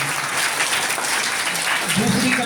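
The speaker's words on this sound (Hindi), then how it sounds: "तालियां बजाइए।" Sustained audience applause at a school's annual prize-giving ceremony, a steady dense wash of many hands clapping that swells slightly near the end, with a voice faintly audible underneath.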